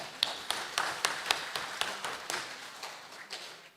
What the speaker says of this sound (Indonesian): Kita tepuk tangan dulu buat 3 kampung tadi